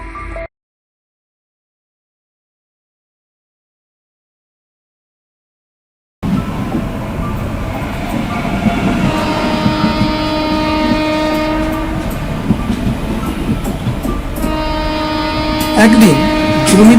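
Cartoon train rolling toward a station in a Bengali horror story, with a steady loud rumble and sustained horn-like tones after a few seconds of silence, the horn swelling again near the end.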